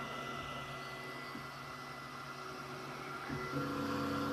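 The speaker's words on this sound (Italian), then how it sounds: "come vedete gli estrusori ritornano in posizione di home." Flashforge Creator Pro 2 3D printer moving its extruders back to the home position: a steady mechanical whir with faint stepper-motor tones, growing slightly louder and shifting pitch near the end, with no talk.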